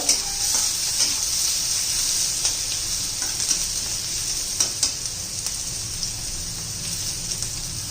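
Onion frying and being stirred in a pan while making dried shrimp (sukat) chutney: a steady, close sizzle with soft scraping, no talking.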